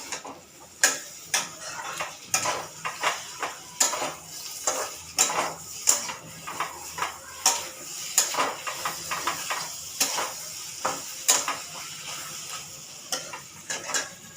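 A metal spoon clanks and scrapes against a pan while curry is sautéed before coconut milk goes in: an irregular run of sharp clinks and stirring scrapes, close and fairly loud, with a faint sizzle beneath and no talking.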